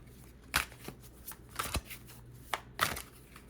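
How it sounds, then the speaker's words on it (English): A deck of pick-a-card oracle cards is shuffled close up, with several separate crisp riffling and slapping bursts spread across a quiet room. "Let's go ahead and shuffle these."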